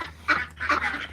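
Ducks at a backyard pond give two short, close, nasal quacks in quick succession over a faint low hum.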